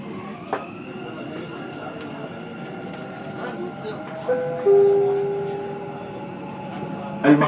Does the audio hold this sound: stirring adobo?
no